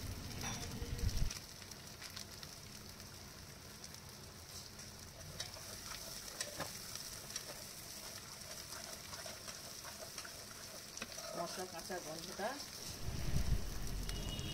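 Spices for egg korma, ground coriander and garam masala powder, frying in hot oil in a pan, with a steady soft sizzle, occasional stirring clatter and louder bursts at the start and end.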